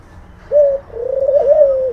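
A single Australian diamond dove coos close by: a short tone, then a longer wavering, bubbling coo, clear against a quiet background.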